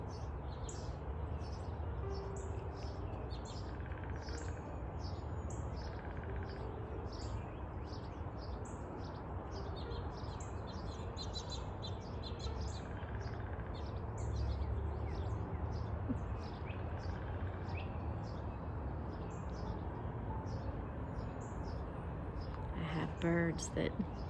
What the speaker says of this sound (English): Birds that keep coming onto my fence right there.